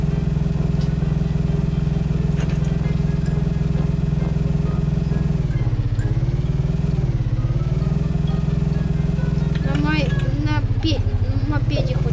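A moped engine runs steadily near at hand with a low, buzzing drone that dips and rises slightly in pitch, while people talk over it.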